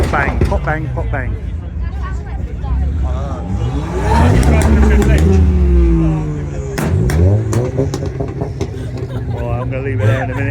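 A car engine revs hard at a Cobham car meet, pops and bangs crackling from the exhaust amid crowd chatter and people talking; loud, sustained revving swells mid-clip with sharp bursts.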